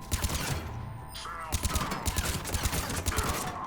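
Rapid bursts of gunfire from the video game Mass Effect Legendary, loud repeated volleys with short pauses between, mixed with faint game effects.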